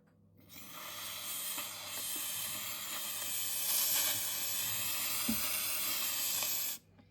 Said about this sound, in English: you can see that it is steaming